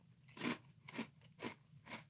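Dry apple pie flavored breakfast cereal crunched close up in four crisp, evenly spaced bites about half a second apart, with no talking.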